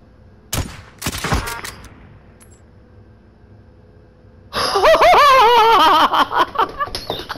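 Gunshots in the video game Call of Duty: Warzone: a few sharp cracks up front, then quieter game noise and a loud, warbling burst of effects and rapid shots toward the end.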